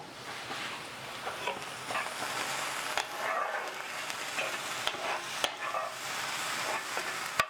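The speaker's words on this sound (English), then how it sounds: "you can see that my shallots and my garlic is trying to get all brown" Shallots and garlic sizzle and fry in a pan, tossed and stirred with a few light clicks of a utensil, a steady close crackle throughout.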